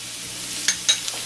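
Potatoes, spices and milk are stirred in a pot for Jamaican rice and red beans, with a couple of quick scraping clinks over a faint, steady hum.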